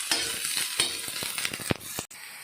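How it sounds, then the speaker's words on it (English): Onions sautéing in a pan for Goan chicken xacuti: a steady close sizzle broken by repeated scraping stir strokes, with no talking. "Saute them nicely"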